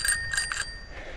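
A 1968 Schwinn bicycle bell rings out three quick, bright dings close up, followed by a fading ring over low background noise.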